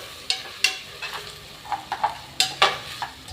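Sharp crackles and pops of curry leaves hitting hot oil in a pan, several quick bursts over a low sizzle, close by.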